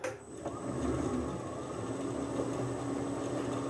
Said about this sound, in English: Run the lathe a lot slower.